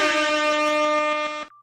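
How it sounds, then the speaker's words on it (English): A loud, sustained air horn blast holds one harmonic-rich tone for about a second and a half before cutting off abruptly. "Let's go over the air horn."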